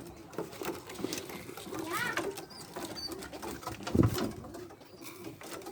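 Pigeons coo softly in the background amid steady outdoor noise, with a deeper coo standing out near the end.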